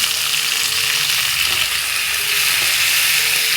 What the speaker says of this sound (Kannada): ಲೋ ಫ್ಲೇಮಲ್ಲೇ ಫ್ರೈ ಮಾಡ್ಕೊಳ್ಳಿ ಟೊಮೆಟೊ